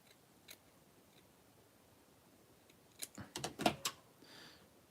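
Scissors snipping a very small circle out of inexpensive fabric, a quick cluster of crisp cuts close by after a few seconds of near silence.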